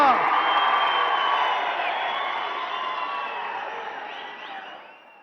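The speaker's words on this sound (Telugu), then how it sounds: "అందరూ నిలబడి చప్పట్లు కొట్టాలని చెప్పి కోరుకుంటున్నా" A large rally crowd at a public meeting in Huzurnagar applauds and cheers to welcome Chief Minister Revanth Reddy, a loud wash of clapping and whoops that slowly fades away.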